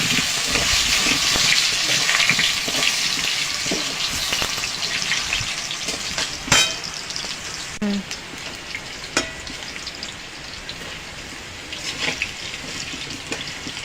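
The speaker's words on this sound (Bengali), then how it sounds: "আলুটা লাল লাল করে ভেজে নেব।" Potatoes sizzle loudly in hot oil, a dense close frying hiss that eases slightly later on, with scattered clinks and scrapes of a utensil and no voices.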